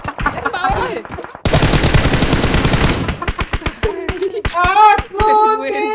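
Rapid automatic gunfire from PUBG Mobile bursts loud for about a second and a half, followed by a string of separate single shots, while people talk excitedly over and between the shots.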